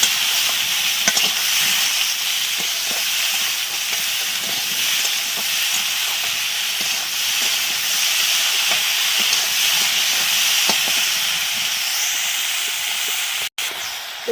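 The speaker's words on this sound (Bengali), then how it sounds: "এবারে নাড়াচাড়া করে দিচ্ছি ভালো করে।" Cauliflower and peas fry in a wok while being stirred, producing a loud, continuous sizzle and steam hiss with faint scraping knocks. A sharp clunk lands near the end.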